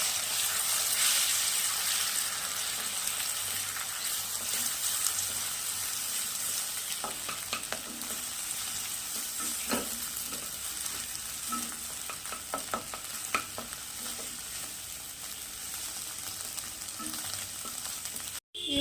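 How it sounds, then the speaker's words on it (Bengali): Beaten egg being scrambled in a hot frying pan for an egg tarka: a continuous sizzle dense with crackles that runs throughout and cuts off abruptly at the end. "ডিমটা ভালো করে ভেজে নেব ঝুড়ো ঝুড়ো করে"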